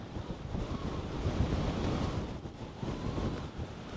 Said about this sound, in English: Wind's coming that way.